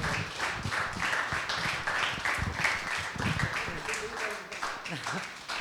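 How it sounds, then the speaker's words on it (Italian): Audience applause after a talk on bees and sustainability, dense clapping from a crowd that holds steady and then thins out toward the end, with a voice briefly heard over it. "Io direi di fare un bellissimo applauso."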